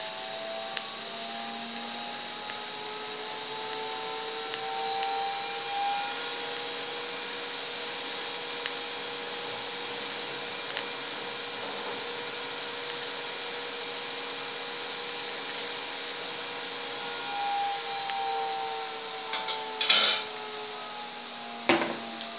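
A TIG welding arc from a Stel Iron-Mig 221p welder, a steady close hum with a constant buzzing drone held throughout, ending in a few brief crackles and taps, with no talking.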